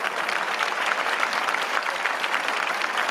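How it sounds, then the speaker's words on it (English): Dense, even applause fills the whole short stretch, loud and close with no pauses, like a crowd clapping together in a room. "Hey, claps up to myself."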